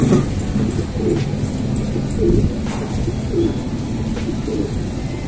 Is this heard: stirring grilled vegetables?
no